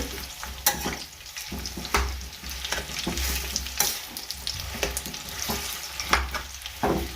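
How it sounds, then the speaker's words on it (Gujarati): Dates roast in ghee in a pan for khajur pak as a spoon stirs them, giving a steady soft sizzle broken by repeated scraping strokes. No one speaks. "આપણે ખજૂરને શેકવાનો છે ઘીમાં એકદમ સરસ શેકાઈ જાય ત્યાં સુધી શેકવાનો છે।"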